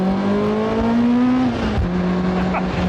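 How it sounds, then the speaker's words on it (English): A Caterham 620S sports car engine revs loud and close at a steady pitch, then the note drops and stumbles briefly as a gear is missed before settling to a lower, even drone. "You join me as I miss a gear"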